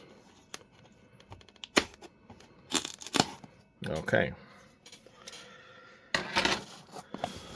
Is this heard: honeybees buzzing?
no